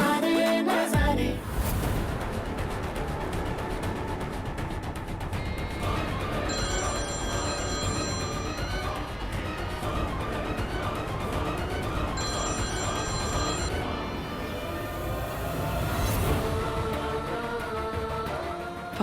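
A telephone rings unanswered in a TV drama scene, repeated bursts of electronic bell tones over about twenty seconds, loud and close, with layered ringing patterns and no one speaking.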